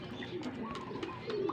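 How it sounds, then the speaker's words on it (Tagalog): Racing pigeons arriving at a loft during training, giving soft, close cooing calls with faint bird sounds around them, moderately quiet. "Nagdatingin ng mga ibon."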